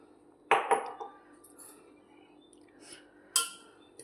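A spoon clinks against a bowl while bhajiya batter for amaranth-leaf fritters is mixed, giving a few sharp metallic taps close by, with quiet scraping between them and no talk.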